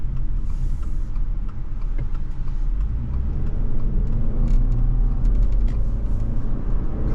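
Interior cabin sound of a 2024 Subaru Legacy Sport with a turbo engine driving along a road, a steady low rumble of engine and tire noise with occasional faint creaks and ticks.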